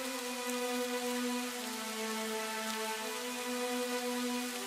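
Steady, even rain falling on a surface in a Bengali animated cartoon scene at a farmer's home, a continuous close wash of patter with a faint tonal hum underneath and no talk.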